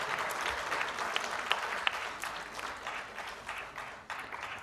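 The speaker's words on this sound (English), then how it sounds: "can we have a big round of applause" Steady applause from a crowd, a dense patter of many hands clapping at moderate distance, fading slightly toward the end.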